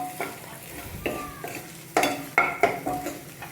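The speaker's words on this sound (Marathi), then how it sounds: "आता हे सगळे मसाले आपण फ्राय करून घेऊ व्यवस्थित." Spices stirring and frying in a hot pan over a raised gas flame for a potato dish, with a low sizzle under repeated clinks and scrapes of a spoon against the metal.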